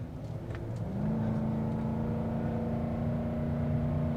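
A 2022 Nissan Titan XD pickup with a V8 engine climbs a steep hill, its engine note rising at first and then holding a steady, loud, continuous drone with road rumble.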